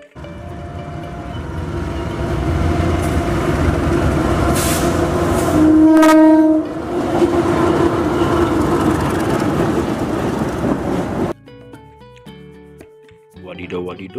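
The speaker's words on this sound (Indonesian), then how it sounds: "ini ada lokomotif kereta teman-teman" A toy train locomotive runs with a continuous rumbling, rattling motor sound, broken by a loud tonal horn blast midway, then cuts to quieter, sparse electronic toy tones near the end.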